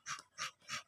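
An American bully dog gives three rhythmic, breathy panting bursts in quick succession, close and fairly loud, at a stud session.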